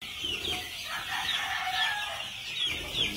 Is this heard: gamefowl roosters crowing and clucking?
yes